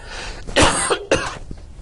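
Two harsh coughs in quick succession, close and loud, followed by a faint throat sound.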